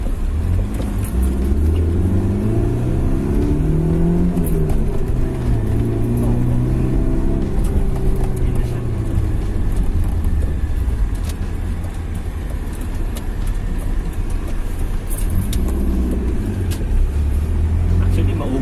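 A 1998 BMW 316 engine, fitted with a Unichip tune, revs steadily and loudly nearby, its pitch rising and falling across several throttle blips, with people talking over it.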